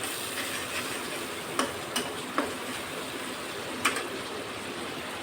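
Spice paste fries in oil with a constant soft sizzle, and a few clicks of a spoon or spatula tap the pan now and then. There is no talk.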